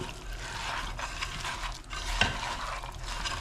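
Small tilapia fish are stirred and mixed with salt, chili and turmeric, making close, wet squelching and scraping sounds in short, uneven strokes.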